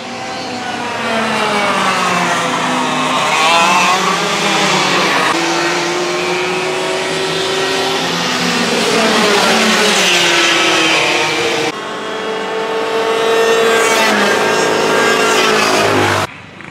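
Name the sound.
go-karts racing at Carmona race track practice session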